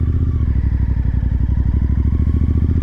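A Royal Enfield GT650 motorcycle engine idles close by with a rapid, even, loud clattering pulse and no talk over it.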